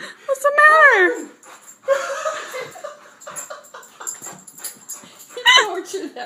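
A distressed dog whimpers in high, wavering whines, with louder bursts at the start and near the end and quieter cries between, while people talk over it.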